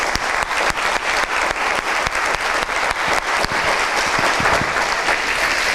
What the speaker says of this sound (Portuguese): Dê a Jesus uma salva de palmas bem forte